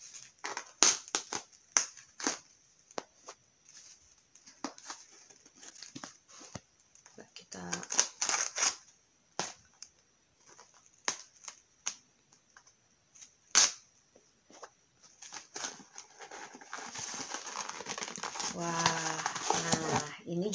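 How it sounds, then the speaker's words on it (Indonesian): Thin cardboard shipping box from Shopee being unboxed, with scattered crinkles, tearing and rustling handling noises in irregular bursts, growing busier toward the end, close by. "Kita unboxing. Kalau yang ini kardusnya lebih tipis dibanding yang tadi."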